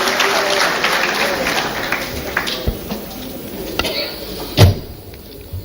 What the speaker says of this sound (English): Please let's welcome him with a round of applause.